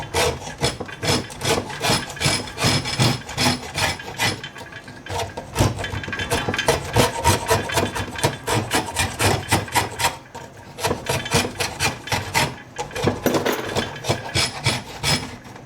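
A homemade draw knife, a sharpened flat metal bracket screwed onto a wooden stick, shaves wood in rapid, rhythmic rasping strokes, loud and close, coming in bursts separated by short pauses.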